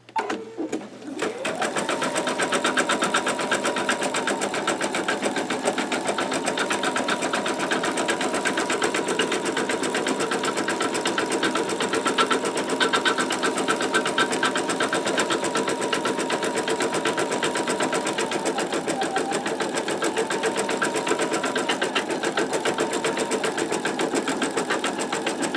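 An embroidery machine stitches steadily with a MagnaHoop magnetic hoop fitted, its fast mechanical whir running loud and unbroken at close range after a brief start, with no talk over it.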